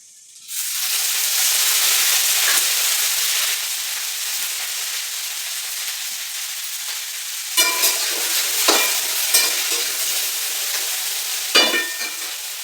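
Okra and eggplant roast in a pan over a deliberately high gas flame, giving a loud, steady hiss that fills the opening seconds and then eases, followed by a few sharp scrapes of stirring near the end.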